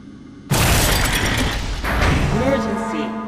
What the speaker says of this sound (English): The shark picks up on me trying to do the same and smashes the glass to try and stop me.